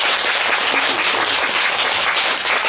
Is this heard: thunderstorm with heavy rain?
no